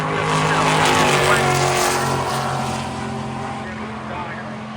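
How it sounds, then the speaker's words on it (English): Oldsmobile drag car, an 11-second Cutlass, roaring down a drag strip on the far side of the track, a loud sustained engine blast with a droning pitch that gradually fades, mixed with crowd and track ambience. "11-second Oldsmobile on the opposite side of the racetrack"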